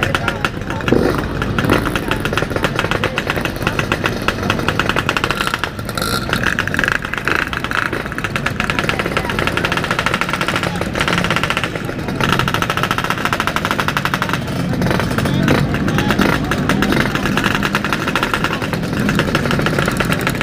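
A Yamaha RX King 135cc motorcycle runs continuously with a loud, rough, rattling two-stroke engine drone while someone talks over it and wind noise builds.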